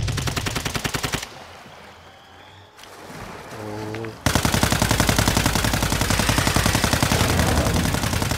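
Rapid automatic gunfire from a video game, a group of players shooting at an alien, loud and continuous bursts that stop briefly and then resume as dense steady fire.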